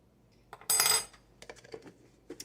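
A regular household teaspoon scooping minced garlic from a jar for chicken meatballs, with one bright metallic clink followed by several lighter taps and scrapes, close and alone.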